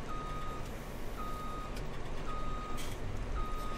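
Truck reversing beeps in Farming Simulator 17, a steady series of evenly spaced single tones over a constant low engine rumble.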